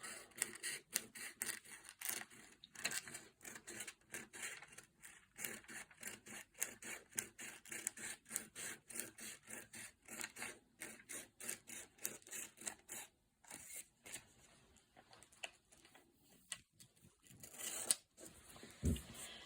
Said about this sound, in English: Now then you go again and cut the other side of the cup.